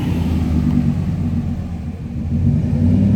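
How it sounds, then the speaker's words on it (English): Low, heavy engine rumble of a passing truck, steady and close, with no voices. "because the truck is coming."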